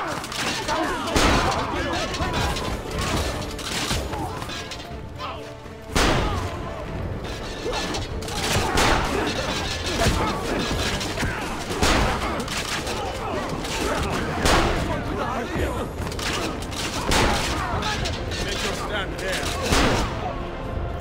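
Cannon shots in a tower defense video game, a dense run of repeated booming blasts with mechanical clanks, steady and loud throughout the clip.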